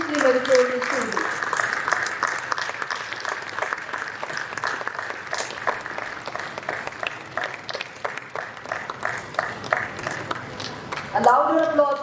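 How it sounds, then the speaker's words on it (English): Audience applauding a Student of the Year award winner at a school Founders Day ceremony, steady applause lasting most of the time, with voices speaking at the start and end. "A louder applause, please"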